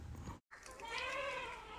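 Large crossbred goats bleat nearby, one wavering, drawn-out call after a brief cut in the sound, fairly faint overall.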